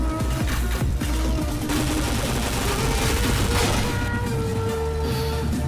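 Rapid gunfire bursts from the shooter game PointBlank, dense and continuous with sharp repeated shots over game sounds, loud throughout with no pauses.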